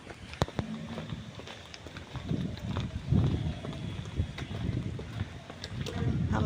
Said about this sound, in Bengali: দেখো কি সুন্দর হাওয়া দিচ্ছে।